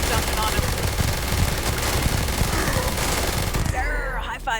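Sustained mag-dump gunfire from the Revenant weapon in Starfield, a loud, dense stream of rapid shots filling nearly the whole stretch before cutting off abruptly near the end.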